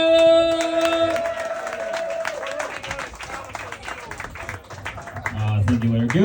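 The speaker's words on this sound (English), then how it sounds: "Come on, let's cheer for him." An audience at a comedy show breaks into steady applause and cheering, a dense patter of clapping that swells near the end while a host's voice and a tonal sting sound over it.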